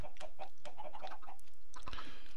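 Chickens cluck in the video game Minecraft, a run of short repeated clucks in quick succession, fairly close and clear with no talk over them.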